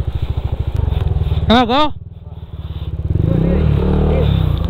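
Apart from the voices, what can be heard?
motorcycle engine revving on a rough mountain road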